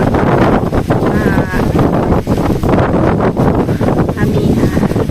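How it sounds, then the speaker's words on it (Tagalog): Wind gusting hard across a microphone outdoors, a continuous loud buffeting roar with rising and falling surges, faint voices mixed in. "Ayan, hangin na din."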